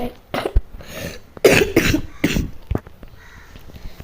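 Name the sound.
coughing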